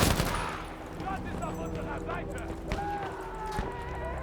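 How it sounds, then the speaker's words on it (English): Rapid gunfire from a weapon in the video game Battlefield V rattles in bursts, loud and close, over a steady game soundscape. "This gun's got some pop."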